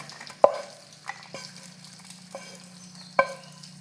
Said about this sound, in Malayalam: ഇനി അടച്ചു വെക്കേണ്ട ആവശ്യമില്ല നന്നായിട്ട് ഇളക്കി കൊടുത്താൽ മാത്രം മതി